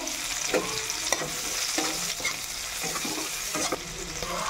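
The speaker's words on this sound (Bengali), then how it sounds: "কড়াইতে দিয়ে দেবো পেঁয়াজ কুচি" Chopped onion frying in hot oil in a wok for a spicy fish curry, with a constant sizzle broken by repeated scraping strokes of a spatula stirring at a loose, uneven rhythm, close and fairly loud.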